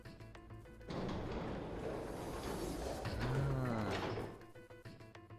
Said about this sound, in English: On Junpei's signal, they both pushed, and the gate creaked open.